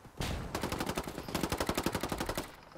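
Rapid automatic gunfire from a shooter video game in a mountain village, a dense burst of close, loud shots in quick rhythmic succession lasting a couple of seconds.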